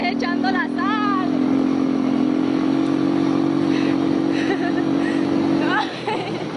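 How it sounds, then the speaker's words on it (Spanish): A motorcycle engine hums steadily at a constant pitch while being ridden, with people talking and laughing over it; the engine drops away near the end. "vamos a dar una vuelta, pero en la pinche moto la vamos a volcar"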